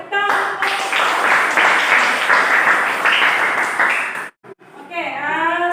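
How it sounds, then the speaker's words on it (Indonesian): Classroom applause after a student group presentation in a junior high civics lesson, a steady wash of many hands clapping that breaks off abruptly, followed by a voice speaking. "Ya, tepuk tangan."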